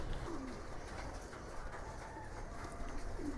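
Racing pigeons coo softly while being fed peanuts as a treat, faint low calls under a steady hiss of background noise, with no talking.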